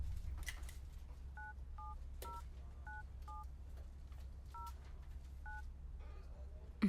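A phone dials out with a series of about nine short DTMF keypad tones in an uneven rhythm over a low background hum, then a faint ringing starts at the end with no answer.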